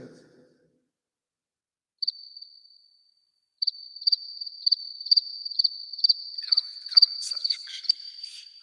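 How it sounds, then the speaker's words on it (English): Crickets chirp close and clear after a brief silence, with one high trilling tone pulsing in a fast, regular rhythm and growing denser toward the end. "Crickets."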